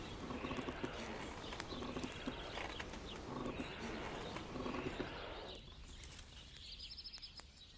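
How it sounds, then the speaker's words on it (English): Hooves clip-clop steadily on a video-game horse, a repeated rhythmic clatter that runs for about five seconds and then drops away, leaving softer game ambience with faint bird-like coos. "This must be the ugliest horse I've seen in my life."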